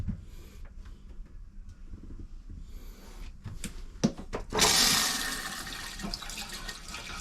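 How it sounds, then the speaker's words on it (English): Water gushes through an RV toilet after its valve opens, following a few quiet clunks and taps, then a loud rushing flush that tapers gradually. "I open the valve of the toilet."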